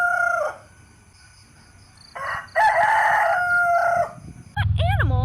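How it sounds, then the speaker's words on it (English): A rooster crows a clear, loud cock-a-doodle-doo lasting about two seconds, then short bright calls follow, with light background noise in between. "What animal makes that sound? A rooster!"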